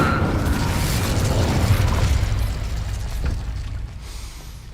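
A fire spell cast in Hogwarts Legacy on PS5, a loud booming whoosh of flame that bursts up front and then rolls off into a fading, crackling rumble.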